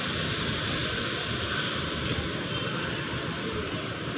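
Intercity buses powered by Mercedes-Benz 1626 engines pull away on departure, giving a loud, steady, broad engine roar that holds without a break.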